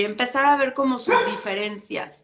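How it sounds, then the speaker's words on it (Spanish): A dog barks in a home setting, its yaps partly buried beneath a person's continuous close talking. "perdón por los ladridos, ya saben que es la ley de Murphy"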